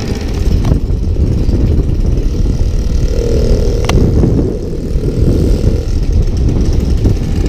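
A 1964 VAP 631C moped engine runs loud and close with a buzzing, rough drone, rising briefly in pitch midway as it accelerates and then settling back toward a slightly high idle.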